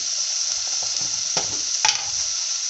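Chopped ginger sizzles steadily in a hot pan, a constant bright frying hiss with a few soft stirring scrapes and clicks partway through, close and alone with no talk.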